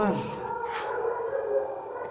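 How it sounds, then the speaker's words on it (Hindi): Dogs barking and howling at night outdoors, a continuous tonal yowling chorus at moderate distance, heard under and alongside people talking. "कुत्ते कितने ज़्यादा हाँ भौंकने शुरू यार हो गए।"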